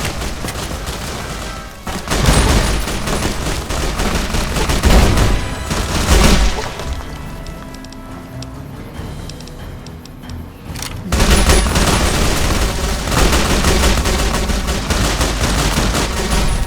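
A frag grenade blast and bursts of gunfire in the video game Fallout: New Vegas, with loud booming explosions and rapid shooting, a quieter lull in the middle, then heavy firing again.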